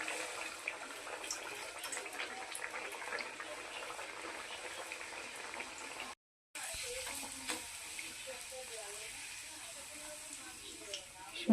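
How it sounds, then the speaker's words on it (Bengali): Peas kachori deep-fry one by one in hot oil in a kadai, giving a steady bubbling sizzle that breaks off briefly partway through. "এই যে তেল গরম হয়ে গেছে, এবার একে একে কচুরিগুলো ভেজে নেব।"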